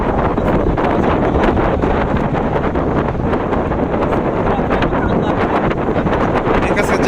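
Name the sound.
strong wind on a boat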